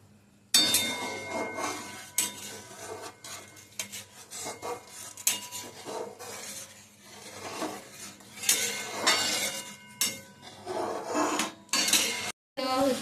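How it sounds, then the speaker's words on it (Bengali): A spoon stirring milk with sugar, bay leaf and a pinch of salt in a metal pot, scraping and clinking against the sides in a steady, busy rhythm close by, with a brief gap near the end and no talk. "চিনিটা ভালো করে দুধের সাথে মিশিয়ে নিতে হবে, নাড়াচাড়া করতে হবে।"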